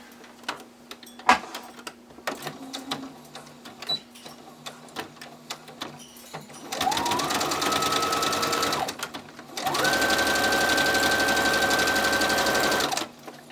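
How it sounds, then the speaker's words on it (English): Sewing machine stitching around the edge of a beginner bat plush, two steady whirring runs of several seconds each, close and loud, preceded by soft handling clicks and rustles. "You'll want to start right about here and sew all the way around till here."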